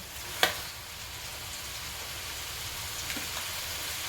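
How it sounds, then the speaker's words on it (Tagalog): Creamy buttered shrimp sizzles steadily in a pan as it is stirred, a continuous soft frying hiss with one sharper clink near the start and faint scrapes later. "Bali, mga 1 minute pa guys na haluin ito."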